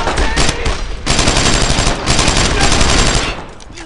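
Gunfire in a Brothers in Arms World War II game cutscene, loud sustained bursts of machine-gun fire with a brief gap, then more rapid shots before tapering off near the end.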